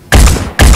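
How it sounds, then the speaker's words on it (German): Two loud, close gunshot blasts in the game Phoenix Point, about half a second apart, each a sharp hit with a short ringing tail. "Deswegen schieße ich schon mal."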